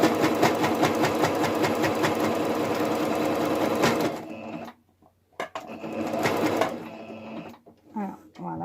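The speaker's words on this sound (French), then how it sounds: "C'est la première fois que je teste le zigzag dans d'autant d'épaisseur sur cette machine." A sewing machine stitches a tight zigzag through thick layers of fabric while making a face mask, running with a fast steady mechanical chatter for about four seconds, then stopping and restarting in short bursts.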